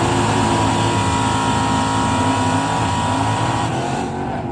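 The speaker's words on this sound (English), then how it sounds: "Dude, your burnout." A drag racing car holds a loud, steady engine roar during a burnout, the harsh, sustained tone hardly changing before it tails off near the end.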